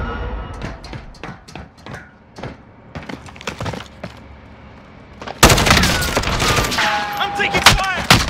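Gunfire in the Call of Duty: Modern Warfare Plunder mode erupts as a dense, loud fusillade of rapid shots and bursts, following a stretch of scattered sharper cracks and bangs.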